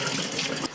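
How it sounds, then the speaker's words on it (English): Cold water pouring from a measuring cup into a bowl of flour for sourdough bread dough, a brief close splashing stream lasting under a second. "So 1 cup of cold water."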